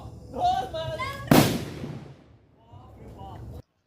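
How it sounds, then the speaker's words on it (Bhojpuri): A single sharp firecracker bang bursts nearby during the Chhath festival in Muzaffarpur, Bihar, with voices talking before and after it. "पटाखा फोड़े।"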